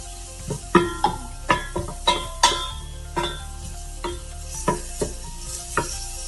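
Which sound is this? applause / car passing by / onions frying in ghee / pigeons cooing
onions frying in ghee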